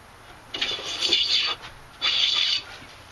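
A hand plane takes two long strokes along the edge of a wooden workbench top board, each a rasping, hissing swipe of about a second, close and distinct over quiet background.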